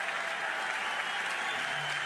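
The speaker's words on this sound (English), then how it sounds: "Listen to this crowd." A college softball stadium crowd applauds and cheers steadily at a pitching change during Wichita State versus Oklahoma in Norman, a dense, continuous wash of clapping with no break.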